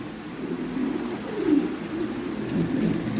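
Lahori Shirazi pigeons cooing, low soft throaty coos that swell and fade in a steady run, close by, with no talk over them.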